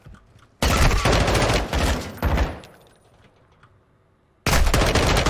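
Rapid gunfire from the PC game Call of Duty: Modern Warfare 2, a loud sustained burst that tapers off into a quieter tail, then breaks out again abruptly, with no talking.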